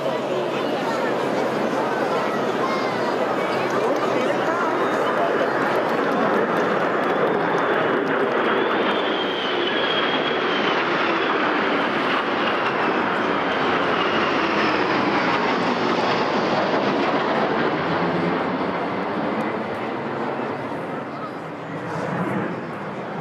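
Loud, sustained roar of a Rivet Joint reconnaissance aircraft flying past with two Lightning jets as escort, over a VE Day 80th anniversary flypast at Buckingham Palace, swelling and fading slowly, with crowd noise and commentary underneath.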